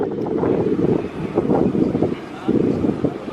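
Gusty wind buffets the microphone outdoors in rough, low rumbling bursts that swell and ease over a few seconds.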